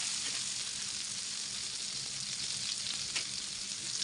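Kathalai fish shallow frying in a pan of oil gives a steady, dense sizzle that holds evenly throughout, close and fairly loud, with no voices.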